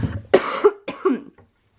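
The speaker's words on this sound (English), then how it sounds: "There I go, coughing again." A woman coughs in a home kitchen: two or three harsh, close coughs in quick succession, then a faint final one trailing off into quiet, with no talking.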